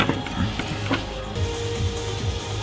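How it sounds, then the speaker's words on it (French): A PC CPU cooler fan clip being pushed onto an Intel Skylake i7 cooler and ratcheting into its second notch, giving a series of close mechanical clicks and plastic scrapes over a steady background hum. "Je le mets sur le deuxième cran, comme ça il est vraiment bien fixé."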